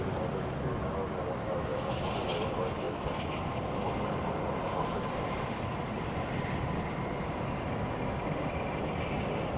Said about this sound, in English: From Phoenix, Arizona comes American 1663, an Airbus A321.